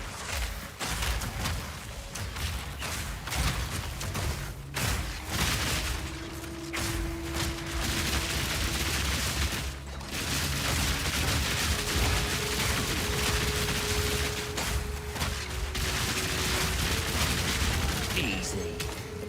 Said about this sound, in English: You can choke on that grenade, and this grenade, and this grenade, and this grenade.